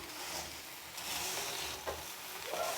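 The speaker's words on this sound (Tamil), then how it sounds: "இப்போ வந்து நான் உப்பு உள்ளே ஆட் பண்ணிக்கிடுவேன். நல்லா ஹை ஃப்ளேம்லேயே வச்சு நல்லா வறுக்கலாம்." Salt dry-roasting in an earthen clay pot over a high flame gives a steady gritty hiss and rustle, broken by a few scraping stirs. No voices.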